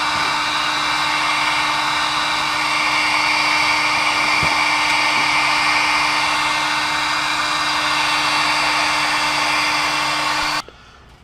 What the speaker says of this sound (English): You want to keep your heat gun moving.